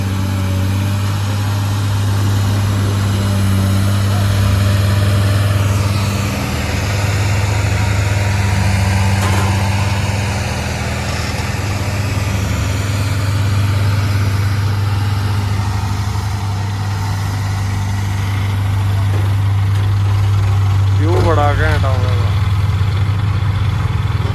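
A steady low engine hum of a tractor running throughout, constant and fairly loud, with a faint brief squeak near the end; the tractor is ailing.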